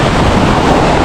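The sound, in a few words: sea waves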